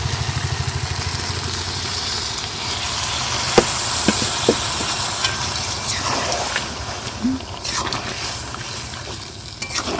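Milk poured into simmering curry in a pan in a home kitchen, a continuous bubbling sizzle with a rumbling low hiss and a few soft clinks, steady and close with no talk.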